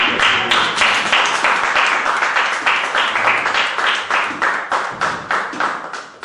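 A church congregation claps together in a fast, steady rhythm, loud and close, the sound of many hands forming a continuous wash of applause with no talking.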